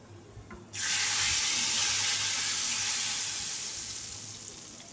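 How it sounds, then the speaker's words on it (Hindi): Hot tadka tempering poured into palak dal bursts into a loud, sudden sizzle after a quiet moment, a bright crackling hiss that holds steady and slowly fades over several seconds, with no talking. "अब लगाते हैं इसे मज़ेदार सा तड़का, और इसकी आवाज़ को आप इंजॉय करें।"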